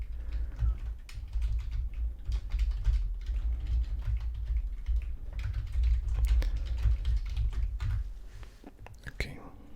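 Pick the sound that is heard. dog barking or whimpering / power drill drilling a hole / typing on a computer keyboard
typing on a computer keyboard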